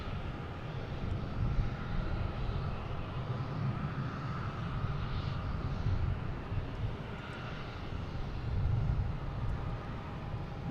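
A JetBlue airliner at Boston Logan International Airport produces a continuous low, rumbling jet roar at moderate distance, swelling gently twice and fading between, with no talking.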